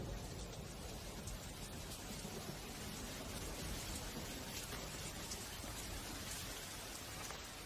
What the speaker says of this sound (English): The monsoon rain feeds the tropical flora and fauna.